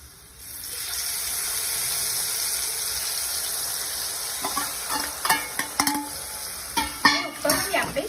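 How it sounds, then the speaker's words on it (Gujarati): Boiled mung beans are added to a hot pan, where a steady frying hiss turns into wet clattering stirs and spoon knocks in the second half, close and without talk. "હવે આપણે જે મગ બાફેલા છે તે અંદર એડ કરી દઈશું।"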